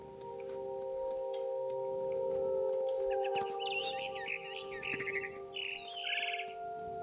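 Bird chirping in What Remains of Edith Finch, a run of quick high tweets and short trills over a steady tonal hum, heard alone without speech.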